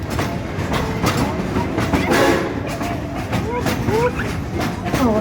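Frisco steam train ride with steady clickety-clack of wheels over rail joints and occasional squealing, loud and close, with passengers chatting underneath.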